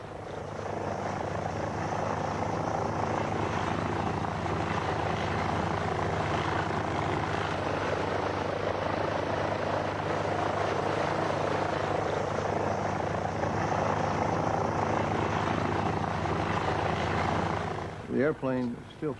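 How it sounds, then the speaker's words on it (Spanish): A vintage open-frame biplane with two wings, a tail and no fuselage flies at full throttle, cruising at about 88 km/h. Its engine drones loud and steady throughout while a voice speaks over it. "El avión todavía vuela como el suyo. Navega a unos 88 kilómetros por hora con el motor al máximo."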